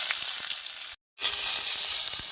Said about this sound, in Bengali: এইগুলো ভালোভাবে লাল লাল করে ভেজে নেব